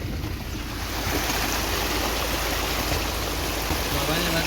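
Rainwater runs across a road on a rainy day during offroading, a loud, steady rushing wash of water that stays constant throughout.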